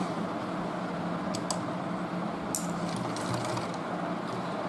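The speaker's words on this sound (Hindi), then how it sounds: "यहाँ से मैंने सिलाई लगाना शुरू किया।" A sewing machine stitches elastic onto cloth with a steady, even mechanical whir, with faint clicks and ticks on top and no voices.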